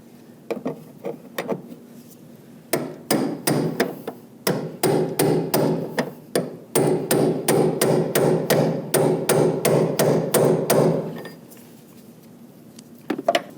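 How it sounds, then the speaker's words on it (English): Rapid metallic hammer strikes on a brass punch locking a fuel pump locking ring on a 2007-13 Nissan Sentra, several quick bursts of sharp taps with brief pauses, loud and close. "take your hammer and your brass punch and just lock it in"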